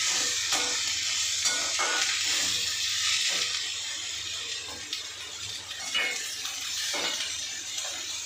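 Chopped large onions sizzling in hot oil while being sautéed for chilli chapati, a steady loud frying hiss that stays even throughout with small crackles and no talk.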